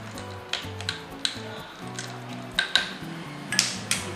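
A spoon stirs a tender coconut and raw mango mocktail, tapping and clinking against the glass at an irregular pace, with soft swishing under a low background hum, close and moderate.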